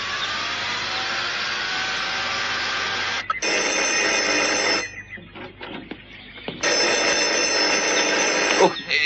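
A telephone rings loudly and continuously in a domestic drama scene, its bell trilling in long bursts with a short gap, under faint background voices.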